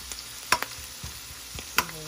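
Ginger and onion sautéing in a pan, a low hiss with a few sharp crackles and spatters over two seconds, near and fairly quiet.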